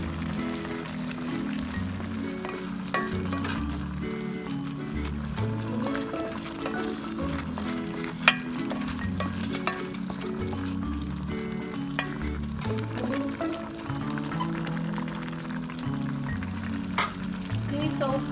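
Crabs and jackfruit simmering in coconut milk in an uncovered pot, a soft steady bubbling and sizzling texture with occasional light clinks, continuous throughout with no talk.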